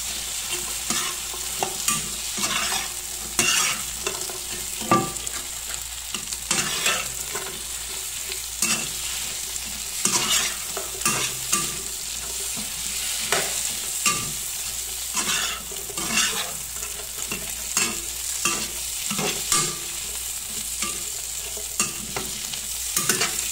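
Spicy meatballs fry and sizzle in a pan, with steady hissing broken by repeated scraping stirs of a utensil throughout, close and fairly loud, no talking.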